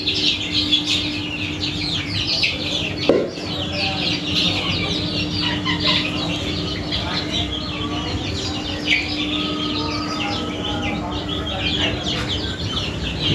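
Many small desi chicken chicks peep and cheep continuously nearby, with soft clucking mixed in and a faint hum underneath, lively and overlapping throughout.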